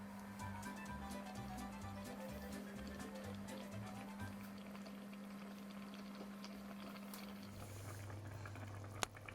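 A pot of stew with chouriço bubbling on the stove, a soft steady boil with patters and small pops, plus a low pulsing hum and a sharp click near the end.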